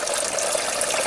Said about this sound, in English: that's where the water will drip down, back down